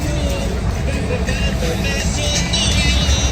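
Heavy, congested traffic fills a crowded downtown street in Tijuana, Mexico, where taxis make up most of the vehicles. Engines rumble in a steady, loud, close wash of noise while a voice talks over it.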